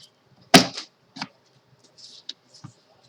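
A paper craft punch pressed through a sheet of paper to cut small flower shapes, giving one sharp close crunch followed by several lighter clicks and rustles of paper handling.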